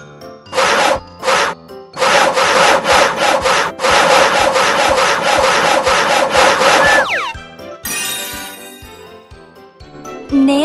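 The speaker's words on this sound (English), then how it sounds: "Start sawing." Cartoonish wood-sawing strokes from a Pororo children's carpenter game, in quick rhythmic bursts, loud and close, followed by a short jingle of chimes and playful music.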